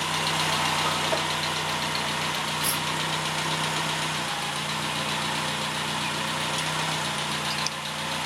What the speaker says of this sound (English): Steady idle about 900 RPM.